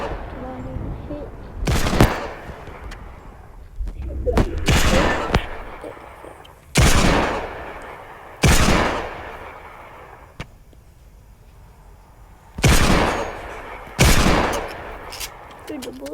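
Video game gunfire comes in several loud, sharp bursts spaced irregularly across the clip, some short and some longer, with quieter background game noise between them.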